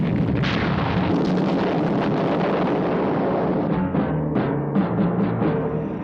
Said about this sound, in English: I opened fire with the SPV rocket, hitting the castle and burying Goddard under an avalanche of falling rubble